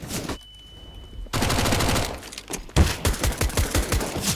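Gunfire bursts crack through a Counter-Strike match on the Inferno map, loud rapid shots and short fusillades in quick succession, with a quieter pause early on before the firing resumes.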